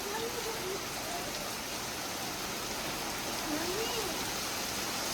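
Steady rain falls outdoors while a child plays in it, a constant wash of drops hissing on surfaces. Faint voices drift in the background.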